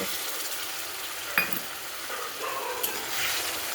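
Tomato and coriander-stem paste added to frying spices with Kashmiri chili powder for a vegetarian cauliflower and potato curry, a soft steady sizzle with a sharp metal clink from the pan and quiet stirring.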